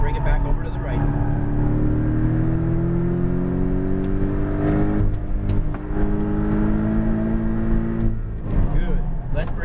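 Porsche Cayman GTS engine lapping a race track at Exotic Racing, Las Vegas, heard from inside, its loud engine tone rising and falling in pitch through shifts as a voice talks over it.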